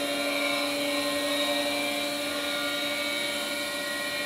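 A loud, steady mechanical whine and hum with high-pitched tonal overtones from a 30-year-old 14-inch hard disk drive, droning continuously without a break and no voices.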